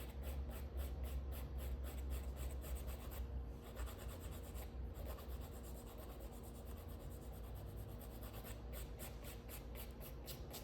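A file rasping in quick, even back-and-forth strokes along the edge of an artificial nail tip, a steady close scratching that carries on throughout at low level.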